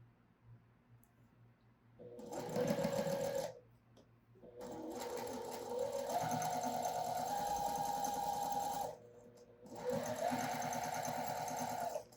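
Sewing machine stitching two fabric pieces together for a quilt block, running in three steady whirring bursts separated by short pauses, close and fairly loud with no talking.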